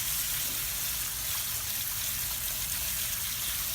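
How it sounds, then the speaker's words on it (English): Water gushes steadily over seashells from a Sanibel Island, Florida beach trip as they are rinsed, a loud, dense, unbroken rushing hiss close to the microphone. "you want to rinse them really good"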